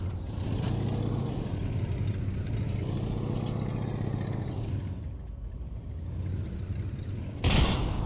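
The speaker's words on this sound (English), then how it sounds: "Tanks!" Tanks rumbling closer in Pavlov VR, a heavy continuous engine drone and grinding treads held steady throughout, with a sharp burst near the end.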